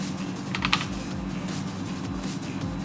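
Quick, light keystrokes on a computer keyboard, a steady run of close clicks over faint background music, with no talking.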